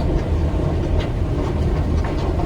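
A Pune metro train at Swargate station, its low rumble and rhythmic clatter of wheels on the rails heard from inside the carriage, steady and fairly loud with no voices.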